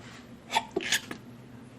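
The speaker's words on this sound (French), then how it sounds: "Je vais éternuer." A short, fairly soft sneeze from a woman indoors, a quick breathy intake and then a sharp burst, set against faint room noise.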